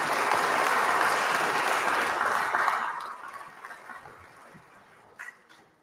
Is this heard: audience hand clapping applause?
yes